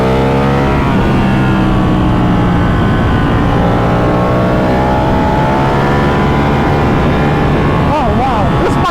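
Ducati Panigale V4 R or 1199R motorcycle engine and exhaust, loud and close, climbing steadily in pitch through the gears as it accelerates, with a sharp blip near the end.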